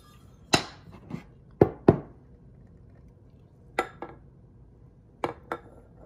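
A spoon stirs sourdough starter in a bowl, making scattered sharp clinks and knocks against the bowl, some in quick pairs, with quiet gaps between them.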